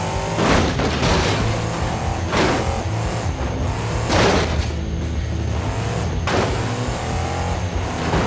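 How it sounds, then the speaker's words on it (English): El Toro Loco monster truck crashing in BeamNG Drive: loud engine roar runs throughout, punctuated by several heavy booming impacts and thuds as the truck tumbles, with no talk over it. "And El Toro Loco with a nice crash"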